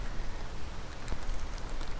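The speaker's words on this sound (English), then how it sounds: "She's still raining," Rain falling on a creek while fishing outdoors, a dense, steady hiss of drops with no pauses, fairly close and with no talk.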